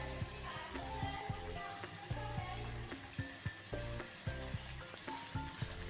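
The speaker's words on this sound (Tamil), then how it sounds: "வெங்காயம் நல்லா சுருள வதங்குற அளவுக்கு நல்லா வதக்கிக்கோங்க" Onions sizzle steadily in a hot pan with a little asafoetida, for a horse gram dal curry, with scattered clicks and scrapes of stirring throughout.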